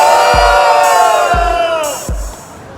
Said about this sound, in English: If you think he deserved to win, make some noise.